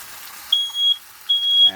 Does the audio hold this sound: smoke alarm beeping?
yes